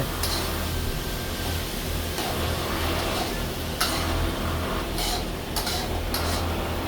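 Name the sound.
stirring food in a cooking pan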